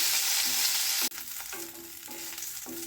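Curry leaves roast in a pan, a loud, close sizzle that cuts off briefly as they are stirred, then continues with soft scraping strokes and no voices.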